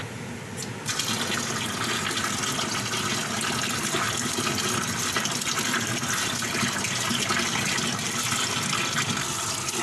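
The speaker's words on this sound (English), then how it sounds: "by thoroughly washing like this, so you will not gas too much when you eat beans" Running tap water gushes steadily over cooked beans being rinsed in a kitchen. A close, loud, continuous splashing flow fills the whole clip after a short start, with no talking.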